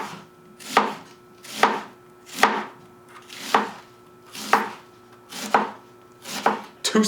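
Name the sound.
slicing an onion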